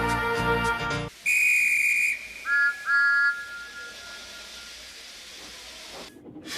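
A cartoon steam engine, James the red engine, gives a long whistle blast right after a burst of music, then two shorter shrill toots follow, and quiet hiss trails off.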